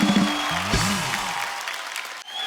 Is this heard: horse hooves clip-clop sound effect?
no